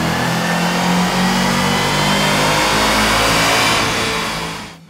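A 2014 Ford Mustang Shelby GT500 roaring at full throttle on a chassis dyno with a 93 octane race tune, a loud sustained engine howl that holds steady then fades off at the end.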